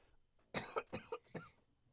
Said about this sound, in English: It's a fucking smoker's cough.